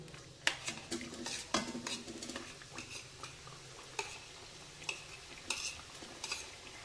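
Chapati pieces dropped into hot oil and pushed around, a busy frying sizzle broken by sharp scrapes and clinks of a utensil against the pan, close and fairly loud, with no talking.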